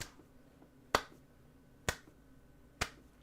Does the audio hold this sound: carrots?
no